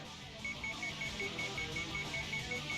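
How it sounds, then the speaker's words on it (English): A wrist bracelet alarm in the visual novel game Sweet Fuse beeps in a fast, even series of short high tones over a soft musical backing, continuing steadily without speech. "The alarm on his bracelet began to ring, and fast."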